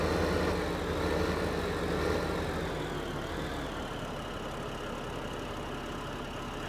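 A tractor engine in Farming Simulator 2015 idles in snowy weather, a steady low rumble with a faint whining tone that holds evenly throughout.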